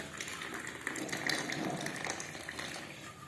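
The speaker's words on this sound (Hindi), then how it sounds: "अब ऊपर से हम कहवा डालेंगे।" Hot kahwa tea poured over ghee into a mug, a steady soft liquid trickle and splash lasting a few seconds, close and fairly quiet, with no talk.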